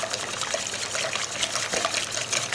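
Foaming browned butter being poured and whisked into pancake batter, a steady liquid trickle and soft splashy stirring held close and continuous throughout, with no talk.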